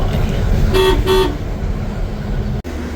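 Stuck in a morning traffic jam on a highway near the Rajkot bypass, a car horn gives two short, loud toots close by over a low rumble of idling engines.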